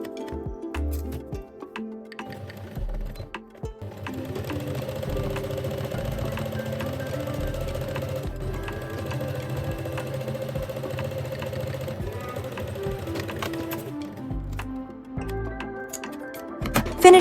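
A sewing machine runs steadily along the side seams of a kimono jacket, a continuous mechanical whir with a fine rapid stitching rhythm that starts, holds for about ten seconds and stops, with small handling noises before and after.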